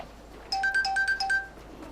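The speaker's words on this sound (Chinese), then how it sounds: "我接电话。" A mobile phone ringtone starts abruptly and plays a short repeating electronic melody of bright tones for about a second, loud and near in an otherwise quiet room.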